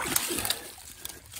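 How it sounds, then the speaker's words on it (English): Water in a small soil-lined stream is stirred up by hand, giving quick close splashes and sloshing over a steady trickling flow, with no talk. "if I stir the water up a little bit"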